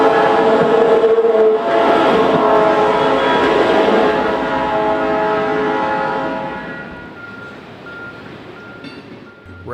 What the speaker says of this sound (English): a 4-foot fence can make quite the effective tripod to shoot the passage of mainline train